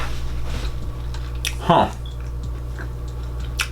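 Biting into a crunchy peanut butter cookie coated in turbinado sugar, one sharp crunch followed by a few soft chewing clicks, close to the microphone, with a brief murmured voice.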